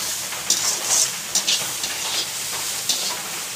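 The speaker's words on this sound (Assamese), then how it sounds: "পিঁয়াজ ভাজি আছে" Onions fry in a pan with a loud, close, continuous sizzle, broken by a few sharp stirring scrapes and clinks.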